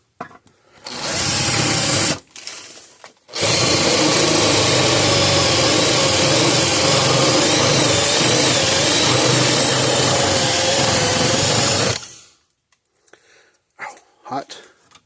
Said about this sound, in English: I drill the tops off of these two things right there.